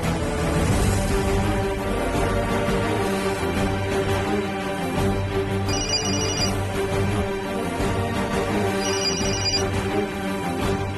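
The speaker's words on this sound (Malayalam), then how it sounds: "അവളെന്താ ഫോൺ എടുക്കാത്തത്?" A telephone rings on and on without being picked up, two short high chirps repeating over a steady bed of background music in a Malayalam TV serial scene.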